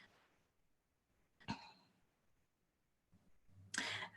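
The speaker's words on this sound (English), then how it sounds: "hold on, I got a cough" Two short, sharp coughs separated by a few seconds of near silence, the second one louder and harsher than the first.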